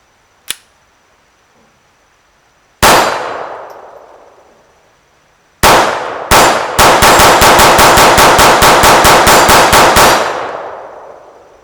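Sig P322 pistol fitted with a red dot sight firing at steel targets: a lone shot, then a rapid string of about fifteen loud, sharp reports, each followed by a bright metallic ring, with no talking.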